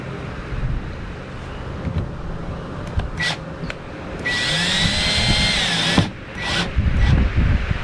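A power drill with a screwdriver bit drives screws during a second battery install in a Ford Ranger, sounding as a few short whirring bursts and a longer sustained run, close and fairly loud with workshop noise between.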